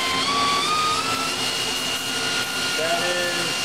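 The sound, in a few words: Mazak FJV200 CNC machining center spindle running at 5000 RPM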